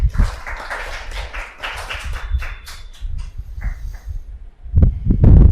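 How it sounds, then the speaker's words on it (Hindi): Hands clapping from an audience in a class setting, a sparse run of individual claps rather than full applause, then a louder burst of clapping near the end. "वेरी गुड, तालियां बजाइए सर"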